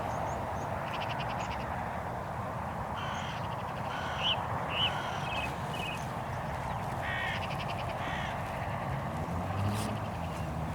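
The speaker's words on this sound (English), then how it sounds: "The hooded crows must be feeling brave today, as one of them decided to land in the field with the buzzard." Hooded crows caw in a field, harsh repeated calls in short bursts, fairly distant and faint over steady wind or ambient noise.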